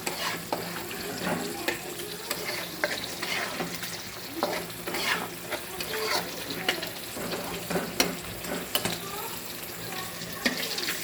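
Native country chicken sautéed in a pan with spices, a steady close sizzle broken by scraping stirs and clinks of a spatula, with a faint voice now and then in the background.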